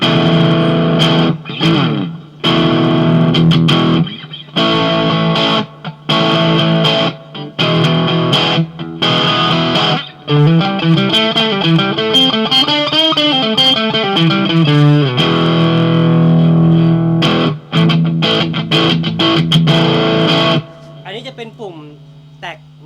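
Distorted electric guitar through a Marshall MG15CFXMS amp: choppy strummed chords with short gaps, then long sustained bending notes, fading to a quieter tone at the end.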